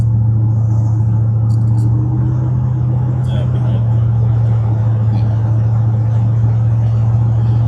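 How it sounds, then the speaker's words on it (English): Steady low engine rumble and road noise inside a 1960 Buick Electra 225 cruising along, a continuous drone with occasional faint rattles and people talking over it. "Again, we're driving in this Buick."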